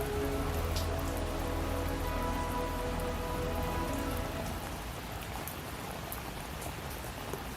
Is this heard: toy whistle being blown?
no